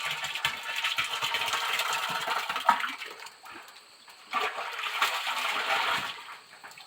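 Gram flour mixture poured slowly into a large tank of water, about 400 litres, while making Jeeva Amrit for natural farming, giving a steady close splashing, gurgling wash that dips briefly in the middle before resuming.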